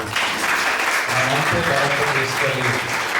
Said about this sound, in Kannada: ಒಂದ್ಸಾರಿ ಕರ್ತನಿಗೆ ನಾವು ಚಪ್ಪಾಳೆ ತಟ್ಟರಿ